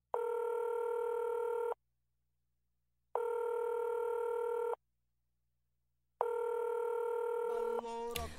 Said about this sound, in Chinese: 现在我们电话连线一下他。